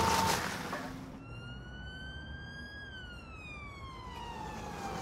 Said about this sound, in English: Is that, that bloody siren having a go?